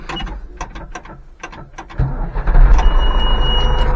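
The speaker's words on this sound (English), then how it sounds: "now I put handbrake on" A vehicle handbrake being pulled on, a close series of sharp ratchet clicks ending with a heavier clunk, followed by a steady engine rumble underneath.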